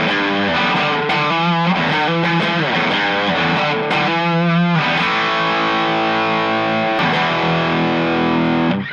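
Heavily distorted electric guitar through a Valeton GP-200 amp modeler, cab simulation off, plays chords and riffs continuously, loud and close, with no talking.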